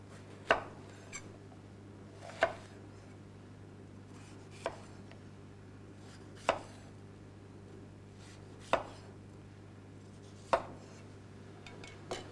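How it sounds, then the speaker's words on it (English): A knife chops through a red pepper on a cutting board, six sharp separate strikes about two seconds apart over a steady low background hum, close and clear with no talking. "Cut the side off a red pepper."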